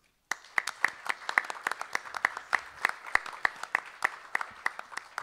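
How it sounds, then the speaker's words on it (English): A small audience at a performing arts event claps steadily, distinct individual claps in an irregular rhythm sounding fairly close and moderately quiet. "Let's give her a round of applause."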